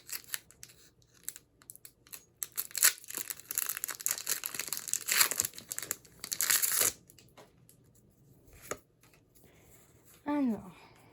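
Pokémon card packs from an Eevee evolutions box are torn open and the cards shuffled, giving close crinkling foil and paper rustling under steady talk, with a few louder rips near the middle.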